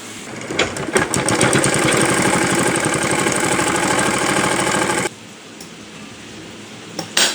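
A sewing machine stitches a shirt seam in a fast, rhythmic run for about four seconds, then stops abruptly, leaving a quiet room with a faint knock near the end.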